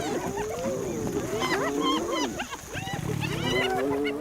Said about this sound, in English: The hyenas dare to go for it and start an all-out attack on their rivals.